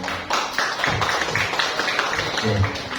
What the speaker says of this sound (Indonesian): Dan tepuk tangan buat Bu Farah.